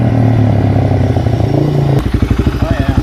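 Motorcycle fitted with a newly swapped Amazon FCR39 carburetor, revving loudly at close range: a steady high-rpm drone for two seconds, then sharp, choppy blips as the throttle is snapped open and closed.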